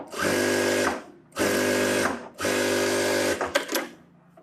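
A sewing machine stitches fabric lining for a front cup shape in a tailoring job, running in three steady buzzing bursts of about a second each with brief pauses, then a few clicks as it stops.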